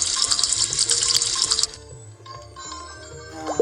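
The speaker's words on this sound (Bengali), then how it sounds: "এটা ধুলেই তার প্লেটগুলো ধোয়া শেষ হয়ে গেল।" Plates are washed under a running tap, with a loud steady gush of water that suddenly stops partway, followed by quieter clinks and light handling sounds.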